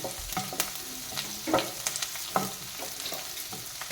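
Shallots, garlic and fenugreek fry in oil for a buttermilk curry, a soft continuous sizzle with occasional sharp pops and the scrape of stirring, close and without voices.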